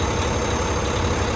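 A truck engine idling, a loud, continuous low rumble holding steady throughout with no talk over it.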